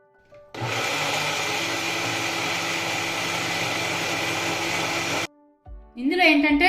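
An electric grinder churns chutney thinned with water, a steady loud whirring drone that runs for about five seconds and then cuts off, followed by a voice speaking.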